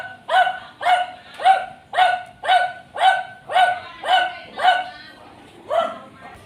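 A dog barks repeatedly in a residential subdivision, nine evenly spaced loud barks in a steady rhythm with a short pause before the last one, fairly close and with no talking over them.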